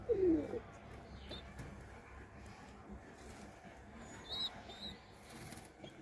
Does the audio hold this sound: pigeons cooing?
yes